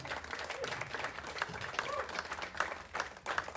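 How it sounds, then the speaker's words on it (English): Wedding guests give a round of applause after a speech, a lively crowd clapping with uneven peaks, a few voices and cheers mixed in. "give it honestly, round of applause, please."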